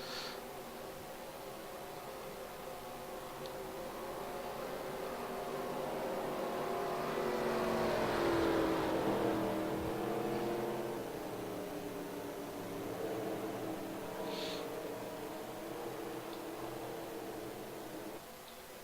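Race cars in a NASCAR Winston Cup video game at Talladega surge back to green-flag speed, a broad, steady engine roar swelling to a peak midway and then holding at a slightly lower, sustained drone with no talk.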